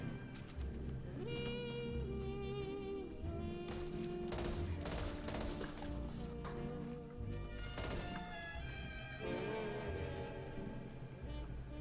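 M14 rifle shots fired in a video game crack out in quick bursts and single reports, layered over a busy, continuous bed of game music and effects.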